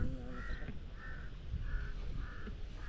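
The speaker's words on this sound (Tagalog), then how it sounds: "Ano ka dinadagit ng uwak?" A crow gives a steady series of about five harsh caws, evenly spaced and moderately distant, against a faint outdoor background.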